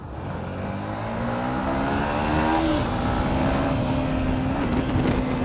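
A KTM Duke and a Yamaha MT15 motorcycle ride off together, their engines rising in pitch as they rev and pull away, then holding a steady, loud drone.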